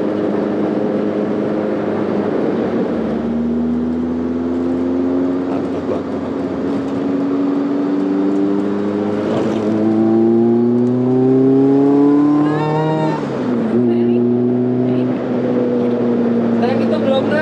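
A Caterham sports car engine revs repeatedly, its pitch climbing and falling through several throttle blips. The sound stays loud and close throughout, with occasional voices faintly underneath.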